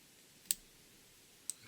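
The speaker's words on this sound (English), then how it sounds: "trim it quite short," Black cock saddle hackle feathers being trimmed short for tying a Black and Silver Bumble fly: a quiet room with two or three small, sharp scissor snips spaced about a second apart.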